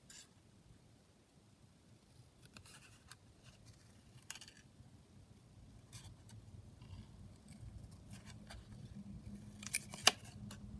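Scissors trim paper ephemera for a junk journal, giving quiet, scattered snips and rustles over a soft background hum, with a sharper cut near the end.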